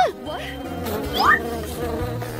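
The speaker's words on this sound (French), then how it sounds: "Oh, Phoebe, il y a tellement des abeilles." Buzzing bees drone close by, with pitch sweeping up and down as they fly past the listener, loud and continuous with no talking.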